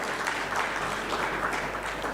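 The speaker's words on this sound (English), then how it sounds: "On this, I want more claps" Audience applause at a partner meet product launch, a steady dense clapping wash that holds at even loudness throughout with no voices over it.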